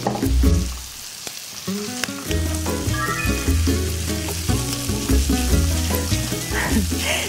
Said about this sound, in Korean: 새우살이 어느 정도 충분히 볶아졌을 때 그때 해서 지금 이특 씨는 밥을 넣어야 될 것 같아요.